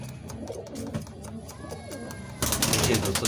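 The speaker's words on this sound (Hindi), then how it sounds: "ये हमारे बेबी पिजन है।" Baby pigeons kept as pets, soft close cooing and chirps with faint rustling, louder bird noise near the end, someone speaking Hindi at moments.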